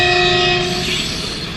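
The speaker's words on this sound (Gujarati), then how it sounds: "જાય ને રેલગાડી, જો કેટલી સ્પીડમાં જાય છે." A train rushes past at speed at Lunsariya village railway station, its horn blaring in steady, loud sustained tones over continuous rolling rail noise.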